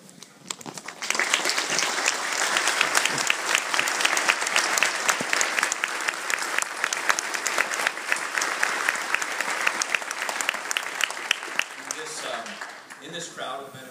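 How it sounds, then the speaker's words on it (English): A church congregation applauding World War II veterans at a Baptist Sunday morning service, a full sustained round of clapping from a large room that swells, holds for about ten seconds and then fades out. "I'd like to give you all the round of applause and thank you for your service during that time"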